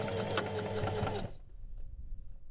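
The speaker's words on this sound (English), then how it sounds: "When you get to the loop, feel free to sew back and forth 2 or 3 times over it." A sewing machine stitching back and forth over a fabric loop on a robe, a fast close whirring hum that runs for just over a second and then stops, leaving near silence.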